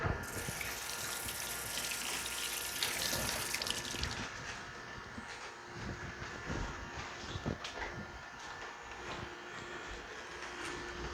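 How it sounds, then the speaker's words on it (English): Running kitchen tap water splashes steadily over hands being rinsed, loud and close at first, then easing to a softer trickle with small splashes, no one speaking. "I'm going to give my hands a rinse."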